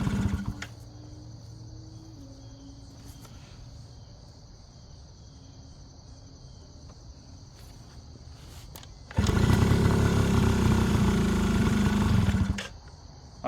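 A Yamaha Razz scooter engine idles after sitting unused for 11 years, a steady low running drone that holds for about nine seconds, then swells into a louder, rougher burst before dropping back.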